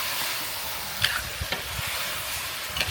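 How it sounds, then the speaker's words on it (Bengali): Goat meat with onions is stir-fried in a pan, giving a steady close sizzle with a few sharp spatula clicks and scrapes breaking through, no talking. "এখন আমি মাংসটা ভালোভাবে নেড়ে চেড়ে ভেজে নিব।"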